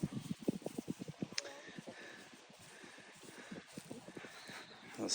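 A horse walks nearby with a steady, rhythmic clip-clop of hooves, fairly close but soft, with light rustling in the background and no clear speech.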